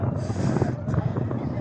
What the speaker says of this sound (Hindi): तेज़ हवा चल रही है ना